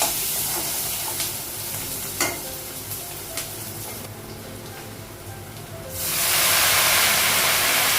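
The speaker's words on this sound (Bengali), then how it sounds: "পেঁয়াজ রসুন আর কাঁচা লঙ্কাটা লাগালাম আর একটু কালো জিরে দিলাম" Onion, garlic, green chili and nigella seeds sizzling in hot oil in a home kitchen, a continuous close hiss with stirring clicks, swelling into a louder, brighter sizzle near the end.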